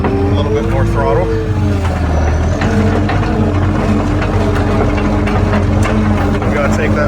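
A 6.7 Powerstroke diesel truck engine runs loud and close with a steady low rumble, its pitch rising and falling as the throttle is worked, while a voice talks over it.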